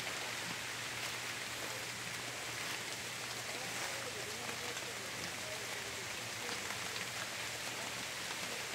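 Typhoon rain falls on a durian and cacao farm in Mindanao as a steady, soft hiss of drops that stays even throughout, with no voices over it.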